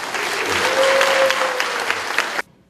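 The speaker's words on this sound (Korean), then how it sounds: "박수 한번 보내주십시오." An audience at a Korean talk event in Gwangju claps loudly and steadily for a host being introduced, the applause cutting off abruptly near the end.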